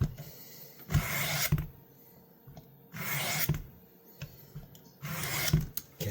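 A pocket knife blade is swept across a coarse sharpening stone in three separate bursts of gritty rasping, each about a second long, with quiet gaps between them. The strokes are close and moderately loud.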